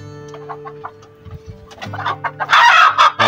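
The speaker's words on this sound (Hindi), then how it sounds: "तो ये मुर्गी जो है हमने अभी बहुत ही मुश्किल से पकड़ी है" Hens cluck in a series of short, close calls that grow louder and more agitated toward the end, with low rumbling handling noise underneath.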